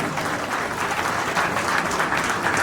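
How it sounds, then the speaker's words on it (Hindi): A crowd at a BJP election rally in Bhilai welcomes Kiran Singh Dev with loud, dense applause from many hands, a steady roar of clapping with no voices standing out. "आप सबसे आग्रह करता हूं जोरदार तालियों से उनका अभिनंदन करें, स्वागत करें।"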